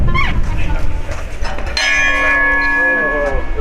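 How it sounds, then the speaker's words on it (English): A loud bell gong rings out with a sharp strike and a long sustained metallic tone over background noise, after earlier brief bell-like tones. "that's a really loud gong"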